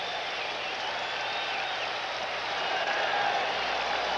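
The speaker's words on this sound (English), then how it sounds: "And the crowd into it again as they get back up." Baseball stadium crowd at a Giants at Reds game, a steady broad roar of cheering and noise rising slightly toward the end, continuous throughout.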